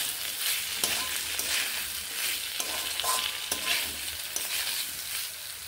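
Fried vegetables being stirred into a simmering paneer masala: a continuous soft sizzle with regular scraping stir strokes repeating close by, no voices.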